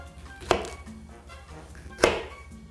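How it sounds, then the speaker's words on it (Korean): A kitchen knife, noted as rather dull, slices a banana into pieces, giving two distinct sharp chops against a cutting board about a second and a half apart in a quiet room. "바나나도 비슷한 크기 두께로 이렇게 잘랐습니다"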